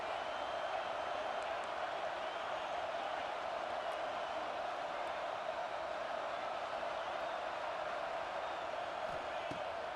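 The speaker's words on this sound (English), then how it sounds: "This crowd bringing the energy and noise early." Steady stadium crowd roar in College Football 26, Auburn at LSU, a dense unbroken wash of noise at constant loudness throughout, with no distinct cheers or claps standing out.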